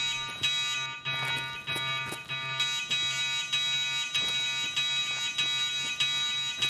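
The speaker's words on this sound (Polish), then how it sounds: "żeby tutaj alarm był, to ktoś tutaj musi wchodzić, tak?" A loud, continuous electronic alarm blares in Escape from Tarkov on the Interchange map, a steady harsh tone pulsing in even repeated cycles, close and alone with no talking.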